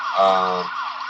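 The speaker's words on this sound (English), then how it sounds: "And a police siren." A police siren wails in rising and falling tones, loud and close, over a steady background hum, lasting about a second.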